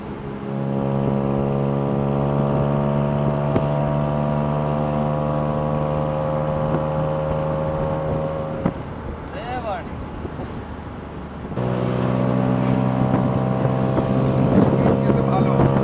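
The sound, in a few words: tuk-tuk engine at high speed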